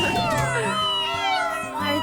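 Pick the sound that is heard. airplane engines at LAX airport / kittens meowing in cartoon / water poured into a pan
kittens meowing in cartoon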